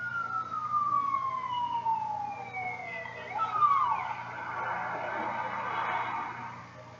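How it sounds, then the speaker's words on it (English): A film scene with an ambulance siren wailing, its pitch sliding down as the vehicle passes, then a second swell of siren mixed with traffic noise, moderately loud and without voices. "And you see the ambulance coming."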